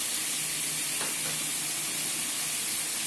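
Chicken kulambu being stirred in a pan with turmeric and chilli powder hisses and sizzles steadily up close, with a faint scrape of stirring about midway.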